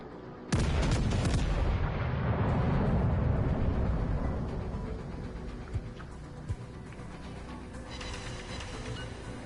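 British battleship main guns fire in World of Warships Legends: a sudden heavy boom that rolls into a long, thundering rumble and slowly fades, with a couple of faint thuds afterwards.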